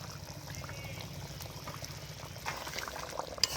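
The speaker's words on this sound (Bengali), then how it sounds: "এখন দিয়ে দেবো গরম মশলা বাটা" Meat curry simmering on the stove after ground garam masala paste is stirred in, a soft continuous bubbling and gurgling, fairly quiet and steady, with a small pop toward the end.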